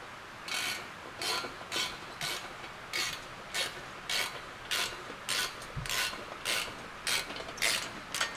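A ratchet clicks through repeated strokes while tightening exhaust bolts on a 10th-generation Honda Civic Si with a 3-inch straight pipe, about a dozen crisp, evenly spaced ratcheting bursts, close and clear with no talking.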